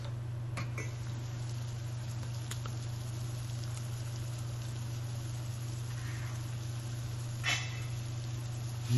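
Onions cook slowly in a pan over medium heat for a lamb vindaloo, giving a soft, steady sizzle and patter over a constant low hum, with a few faint ticks and one brief clatter near the end.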